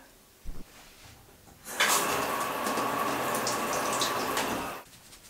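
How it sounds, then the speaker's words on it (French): A household shower turns on after a short knock and runs for about three seconds. The spray hisses steadily and close by, then cuts off, with no talking. "donc je vais aller à la douche"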